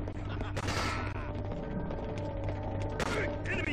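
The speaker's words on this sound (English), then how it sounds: "Enemy fire!" Dense video-game gunfire rattles nonstop, with bursts of automatic fire and sharp impacts over a steady low hum, loud and close, while voices shout in the background.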